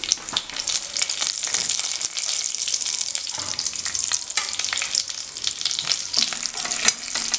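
Whole spices (bay leaves, cardamom, cloves and a little cinnamon) frying in a pan, a dense crackling sizzle with frequent spatula scrapes and stirring knocks, close and steady throughout.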